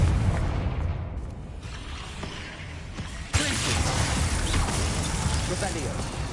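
A Confringo blasting spell erupts in Hogwarts Legacy on PS5 during a fight with a giant spider: a sudden loud, broad burst hits midway and settles into a sustained rumbling roar over the ongoing game noise.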